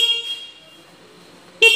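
An E Future electric scooter's horn sounds in brief loud, close bursts, one fading at the start and another sharp toot at the end, with quiet between.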